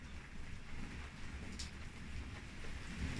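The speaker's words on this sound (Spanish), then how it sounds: "Y se está largando a llover mal. Hay una tormenta, que se viene ahora" Rain beginning to fall outdoors as a storm approaches, a steady soft hiss of drops with low rumbling underneath, constant and moderately distant, no voices.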